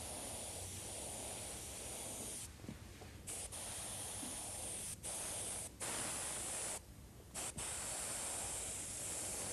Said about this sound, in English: The airbrush I'm using to do this is an Iwata HPC. It's a medium to fine detail brush that works very well with automotive paints.